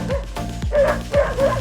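Dogs bark in a quick series of several sharp woofs and yips, close and loud, along a rural hillside road in Cheswick, Jamaica, with no talking.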